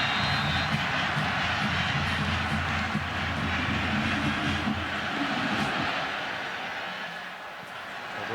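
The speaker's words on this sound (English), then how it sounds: "And you can hear the fans." Football stadium crowd of over 109,000 fans at a Michigan versus Penn State night game, a steady distant roar that swells and eases slightly, with no speech over it.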